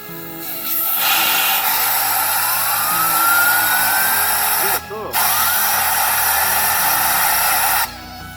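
A Subaru Impreza WRX turbocharger spun up with compressed air: a steady loud hiss with a rising whine as the wheel gains speed, a short break, then another burst of air, with a voice speaking over it.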